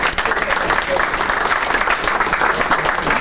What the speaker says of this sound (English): give a round of applause to our seniors